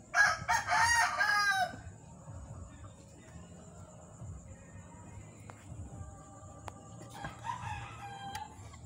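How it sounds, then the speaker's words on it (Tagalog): A rooster crows loudly right at the start, followed by quieter farmyard ambience with faint distant clucks and a steady high hum. "Sasagutan sila mga manok."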